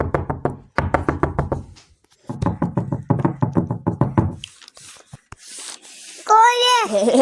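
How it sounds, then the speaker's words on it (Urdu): Loud knocking on a house door in an animated bedtime story comes in three quick rhythmic volleys of sharp raps, followed by a few brief scraping and whooshing effects and a short high vocal sound. "اس نے گھر پہنچ کر زور سے دستک دی"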